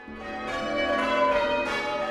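Village church bells ring in a steady, sustained peal, their overlapping metallic tones blending into a continuous, fairly loud wash with no talking.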